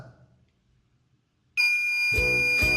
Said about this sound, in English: I am going to use a simple gesture to turn on the buzzer.